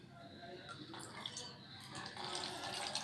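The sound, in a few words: rainwater flowing away over the ground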